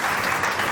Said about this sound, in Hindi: एक बार जोरदार तालियों के